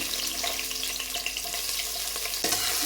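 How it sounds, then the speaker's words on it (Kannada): Garlic and chopped onion frying in hot oil for ridge gourd sambar, giving a steady, dense sizzle throughout with a brief louder burst near the end as the pan is stirred. "ಈರುಳ್ಳಿ ಬೆಳ್ಳುಳ್ಳಿ ಚೆನ್ನಾಗಿ ಫ್ರೈ ಆಗಬೇಕು."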